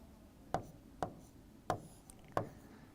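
Marker or chalk strokes on a classroom board during an engineering lecture on flywheel torque: four sharp, evenly spaced taps with short scratchy tails, close and fairly quiet, with no talking.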